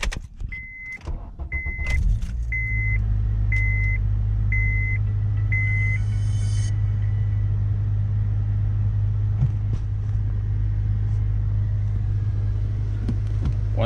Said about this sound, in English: Let's start it up and just move it a little bit.